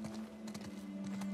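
Rapid clip-clopping horse hooves in The Last of Us Part 2, faint and quick, under a steady low hum.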